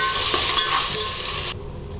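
Onion with ginger-garlic paste sautéing in a pan for biryani, a loud close hiss and sizzle with a few stirring scrapes, which then drops abruptly to a quieter bubbling near the end.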